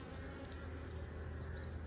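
Honeybees at an open hive during a swarm-prevention inspection hum in a dense, steady, soft buzz, with occasional individual bees passing near.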